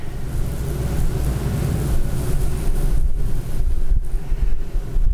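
Small rocks poured steadily into a container during a church sermon demonstration, a dense, continuous rushing rattle that holds loud and close for about five seconds with no talking over it.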